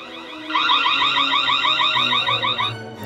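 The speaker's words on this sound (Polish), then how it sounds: "Zaczniemy może od alarmu. Sprawdzimy, czy jest dość głośny." A loud electronic alarm siren from a Reolink Go G430 security camera warbles rapidly and continuously for over two seconds, close by, then cuts off abruptly.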